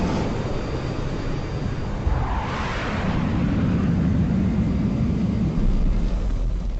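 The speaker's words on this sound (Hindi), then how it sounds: "भारतीय वायुसेना के हंटर विमानों ने लोंगोवाल के पोस्ट की ओर उड़ान भर ली।" An Indian Air Force Hunter jet taking off, set in the 1971 India–Pakistan war, makes a broad, roaring engine rush that swells steadily and stays loud and close throughout, with no talking.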